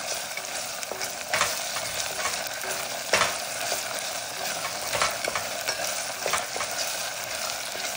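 A utensil stirs tomato paste into ful medames frying in a pan, giving a continuous close sizzle with repeated scraping stirs and occasional knocks against the pan, with no talk.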